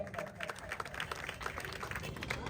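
Scattered clapping from a crowd at a lucky-draw gathering sounds faint and distant, applauding a small child, with people talking over it.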